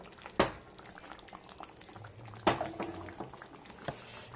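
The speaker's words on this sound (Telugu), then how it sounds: "చేపల పులుసు చక్కగా ఉడికిపోయింది చూడండి చక్కగా రకాలు ఆడుతున్నాయి చేపలు పులుసులో" A pot of Telugu-style fish curry (chepala pulusu) simmers with fish pieces in it, giving a soft, steady bubbling hiss broken by two sharper pops.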